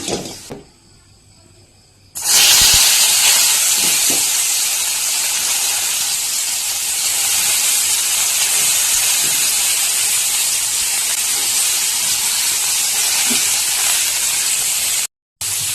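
Fish for curry fries in a pan. After a quiet start, a loud, steady hiss of hot oil bursts in and holds close for most of the clip, then cuts out briefly near the end.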